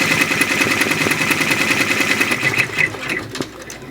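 A Brother PR655 embroidery machine stitches steadily, its rapid mechanical needle rhythm running close and continuous, with a few sharper clicks near the end as the stitching changes.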